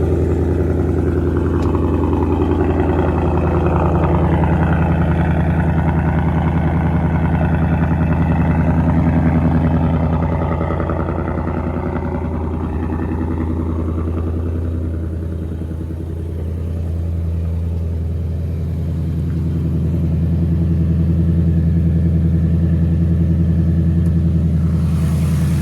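A 2024 Ford Mustang S650 idles after a cold start, a loud, steady low rumble that dips slightly as the idle settles, with no talking.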